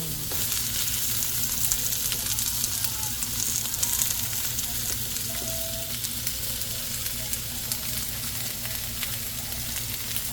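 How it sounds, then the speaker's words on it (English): Onion frying in a pan at dinner time gives a steady, dense sizzle and crackle close by, even and unbroken for about ten seconds, with a few faint knocks and no voices. "Then I'm going to add the onion."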